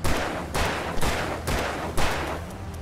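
Gunshots ring out in the action video game Alan Wake, five heavy, evenly spaced blasts about half a second apart, each loud and booming with a short decaying tail.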